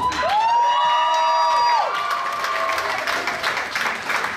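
An audience on the closing night of an arts festival showcase claps and cheers loudly, with whoops and shouts over a sustained rising electronic tone that fades, the applause continuing after.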